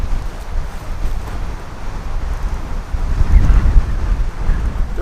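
Strong wind gusts across an open disc golf course, rumbling against the microphone in a steady low roar that swells louder in the second half.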